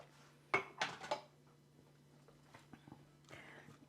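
Coleslaw with plenty of grated carrot being mixed in a bowl: a short cluster of clinking, scraping utensil strokes against the bowl near the start, then quieter faint stirring and a light tap or two, with a steady low hum underneath.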